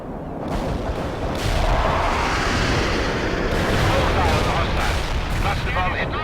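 Cluster bomb explosions in World in Conflict, a dense rumbling barrage of overlapping blasts and crackling booms that swells and holds loud for several seconds, with radio-style voices over it.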